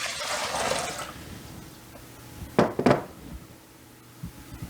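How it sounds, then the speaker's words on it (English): Four cups of water poured into a saucepan in a home kitchen, a splashing rush at the start that fades, followed by a couple of sharp clunks and a soft knock later. "I'm going to add 4 cups of water into a saucepan"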